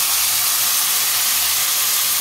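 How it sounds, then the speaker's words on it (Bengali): Bitter gourd and potatoes fry in a pan, giving a steady, loud hiss of sizzling oil that runs unbroken and alone throughout. "দেখো, বসিয়ে দিলাম উস্তা আলু ভাজাটা"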